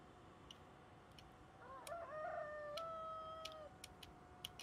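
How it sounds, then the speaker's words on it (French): Rooster crowing in the Train Simulator 2020 game on a Carlisle to Glasgow Class 90 run, one drawn-out crow at moderate distance over steady rumbling train ambience and scattered clicks. "on entend un coq chanter"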